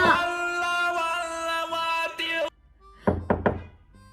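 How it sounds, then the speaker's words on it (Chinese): Music plays and then cuts off, followed by three quick, firm knocks on a door in a short burst. "开门，星哥"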